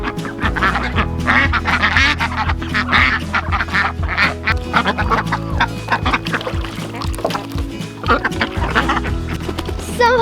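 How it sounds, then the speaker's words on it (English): Ducks, including a Muscovy, quack loudly and honk in rapid, overlapping bursts during a scuffle, close and continuous for several seconds with hoarse calls and flapping noise. "One of the gold star ducks tried to mess with the Muscovy, and she got it."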